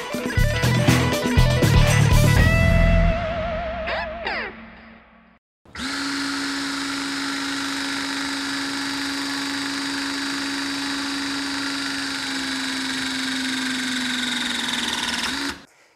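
A battery-powered 12-ton electrical terminal crimper, model EK1240, first gives rattling mechanical clicks and whines, then after a brief gap runs with a loud, steady close motor drone that holds for about ten seconds before stopping.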